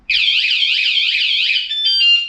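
A loud electronic bicycle anti-theft alarm wails in repeating warbling sweeps, then shifts to a steady rapid beeping tone, sounding alone and close.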